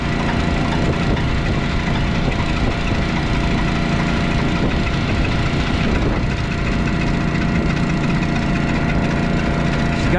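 Engine running steadily after firing in -20C cold, a loud, constant, rough idle drone that fills the whole stretch without pause.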